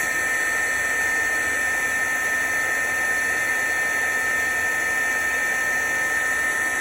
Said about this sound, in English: we're going to melt that with the heat embossing tool